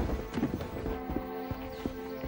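Horses' hooves clip-clopping nearby, a quick, uneven series of hard knocks over a short stretch with no talk over them.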